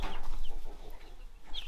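A group of newly arrived young chicks chirp and cluck softly in a chicken brooder, with quiet, scattered peeps over a low background hum and no talking.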